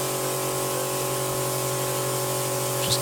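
An air compressor hums steadily in a workshop, a constant close drone with a faint hiss over it, unbroken for a few seconds and with no talk.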